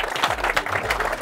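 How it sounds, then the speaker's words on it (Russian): Applause from the audience at a fishing tournament award ceremony at a lake, a short burst of scattered clapping with some voices mixed in. "Аплодируем"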